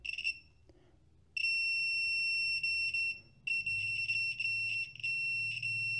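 A continuity tester beeps while checking a car power window wire on a 1965 Thunderbird. It gives a short chirp and then long, steady, high-pitched tones that cut out and resume irregularly. The beeping is close and clear against a quiet background.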